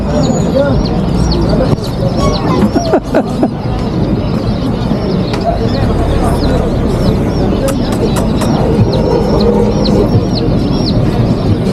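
Chicks peep constantly amid a busy, noisy crowd of pigeons and chickens in Amman, Jordan, with a steady loud murmur and occasional cooing and clucking throughout.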